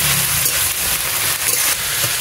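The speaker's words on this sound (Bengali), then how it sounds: "আদা রসুন বাটাটা একটু ভেজে নেব।" Ginger garlic paste fries in a pan with a dense, loud, continuous sizzle and hiss, close up and unbroken, with faint stirring under it.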